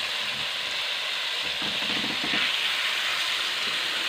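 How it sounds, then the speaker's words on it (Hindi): Tomatoes fry in browned ginger garlic paste for a fish curry masala, giving a loud, steady, close sizzle and hiss, with faint stirring scrapes partway through. "टमाटर को अच्छी तरह मैं फ्राई कर लूँगा, मैश कर लूँगा सालन में"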